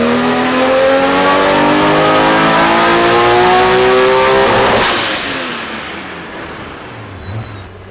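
A Nissan R32 GTR with an HKS 2.8 engine screams through a loud rising rev on a dyno pull toward 8,000 RPM, then lets off around five seconds in as the engine note falls away to a quieter, fading idle.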